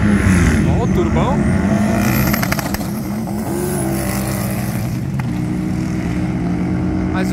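Turbocharged Harley-Davidson drag motorcycle launching and accelerating past at a Brazilian strip, its loud engine roar filling the whole stretch, dipping briefly midway, then settling into a steady nearby drone.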